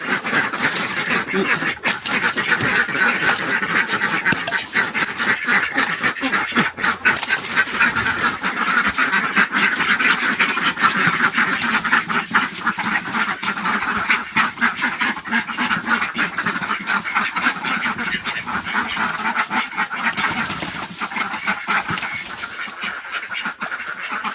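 A flock of ducks released at a coconut farm quacks continuously and loudly, many overlapping calls forming a dense, steady racket throughout.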